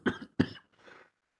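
A man with asbestosis coughs twice in quick succession, harsh and close, followed by a softer rasping throat clear, in a quiet council meeting room.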